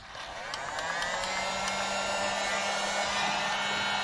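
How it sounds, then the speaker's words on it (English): An electric heat gun whirs up to speed and then blows a steady, close hiss and hum while heating part of a Harley-Davidson Street Glide frame being prepped for powder coating, with no talking. "So I'm going to grab my heat gun. We're going to plug it in. And we're going to heat up this part of the frame."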